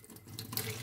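A faucet gushes into a sink while mint stem cuttings are washed under the flow, a short, loud, steady stream of running water heard up close.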